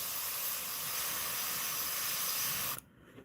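An airbrush sprays paint onto a bluegill fish carving in a steady, loud, continuous hiss, then cuts off abruptly near the end, leaving a quiet tail.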